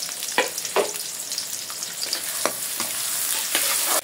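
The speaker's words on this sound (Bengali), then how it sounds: "পেঁয়াজ দিয়ে দিলাম আধা কাপের মতো।" About half a cup of onions fry in hot oil, a steady close sizzle broken by several sharp scraping stir strokes against the pan.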